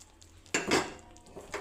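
A spoon scrapes and clatters in a pan as sesame powder is stirred into hot jaggery syrup, giving a few sharp metallic knocks and scrapes up close with no talking.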